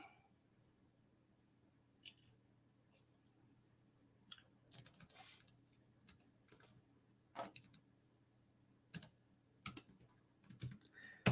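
Quiet, sparse typing on an e-ink tablet's keyboard case with irregular clicks and short bursts of keystrokes over a low steady hum, no voices.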